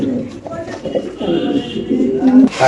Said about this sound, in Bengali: এখানে আছে একটা ইন্দোনেশিয়ান রেসার কবুতর